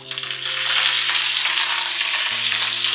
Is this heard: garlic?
yes